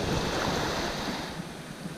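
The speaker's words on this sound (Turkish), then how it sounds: "arada bir büyük dalga geliyor" Steady roar of sea surf with wind buffeting the microphone at a rocky shore in Datça, Turkey, waves washing continuously and fairly loud, easing slightly toward the end.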